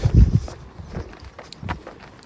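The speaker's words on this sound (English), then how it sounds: "I'm walking to Newstead." Footsteps walking outdoors along a street, a few heavy close steps at first, then lighter, softer, irregular steps.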